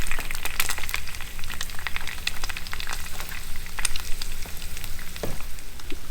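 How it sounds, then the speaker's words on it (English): Oil heating in a pan on a stove in a remote off-grid log cabin gives a steady, low sizzling crackle with faint pops throughout, fairly quiet and alone. "This oil's heating up nicely."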